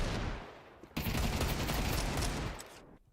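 Sustained bursts of automatic gunfire from a Counter-Strike match in a professional esports semifinal, loud rapid rattling shots that intensify after a brief lull, then cut off abruptly.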